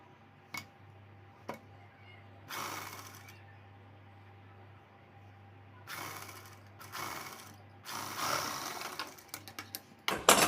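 A sewing machine stitches the side seam of a size 36 princess-cut blouse, running in a few short bursts with quiet pauses between them and a low steady hum underneath.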